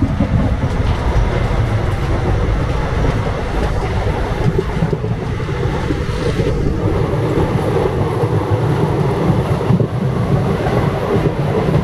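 A passenger train on the Gooty to Bangalore route rumbles along continuously, a loud, steady roar of wheels and carriage noise with wind buffeting, and no talking.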